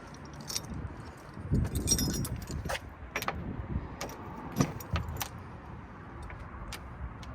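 Keys jangle in small bursts of metallic clinking, close and fairly quiet, with soft ticks and a faint car-like background in between, beside a Vögele SUPER 800-3i tracked asphalt paver.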